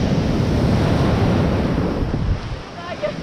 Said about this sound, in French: aujourd'hui il y a des vagues.